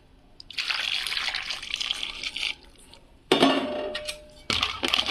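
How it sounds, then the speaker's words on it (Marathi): Water pours steadily into a pot of fish scraps in a few separate bursts, loud and close, with short pauses between pours. "यामध्ये पण मी पाणी टाकून घेणार आहे"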